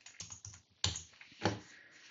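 Close, quiet keystrokes on a computer keyboard, a few soft taps followed by two firmer clacks, with no one talking.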